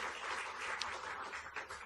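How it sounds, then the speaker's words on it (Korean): A church congregation claps in a steady, moderately distant round of applause that carries on without pause. "다시 한번 박수하도록 하겠습니다."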